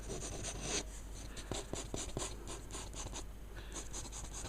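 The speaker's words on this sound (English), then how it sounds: "Quickly sketching" A pencil sketches quickly on paper, close and quiet, with rapid scratchy strokes coming in short bursts and a few sharper taps along the way.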